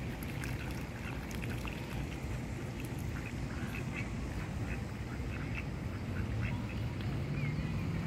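Ducks quack repeatedly over a steady low rumble in an urban park pond, their calls scattered and moderately close; a faint voice occasionally surfaces beneath the birds.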